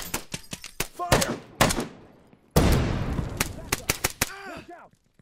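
Gunfire in the game NPC Battlegrounds: sharp, loud single shots and short bursts in an irregular rhythm, broken by one heavier sustained blast midway, with ringing, whining tails toward the end.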